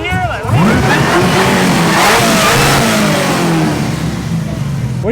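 A supercharged LS3 V8 swapped into a BMW E36 revs hard, rising and falling loudly at close range in a series of throaty pulls, with voices talking over it.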